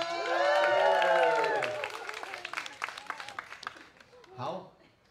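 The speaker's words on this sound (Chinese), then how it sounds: "叫你们再一次尖叫声加掌声" An audience at a performance of Amis and Puyuma youth screams and applauds, a loud burst of shrill cheering tapering into scattered clapping, alongside a nearby voice.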